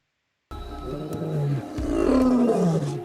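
After half a second of silence, a big cat lets out a deep, rumbling roar, close and loud, sliding in pitch with a short break before a second sustained groan.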